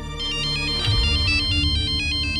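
A phone ringtone ringing in a repeating electronic melody pattern, loud and steady throughout, with no voices over it.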